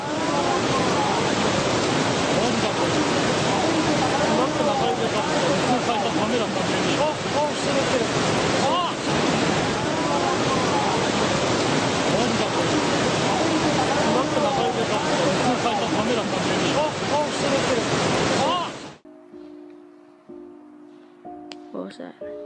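Tsunami waves crash in a continuous, loud roar of surf and rushing water, closely miked with wind noise, for about nineteen seconds before cutting abruptly to quiet tones.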